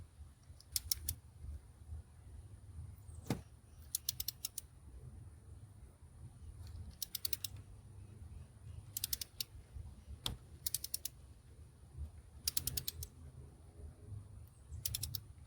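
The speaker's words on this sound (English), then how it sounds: "feel it come to torque. Yeah, that's torqued right there" Torque wrench on a Ford 7.3 Power Stroke injector cup clicks in several quick bursts of sharp metallic ratcheting, a few isolated single clicks between them, over a low steady hum.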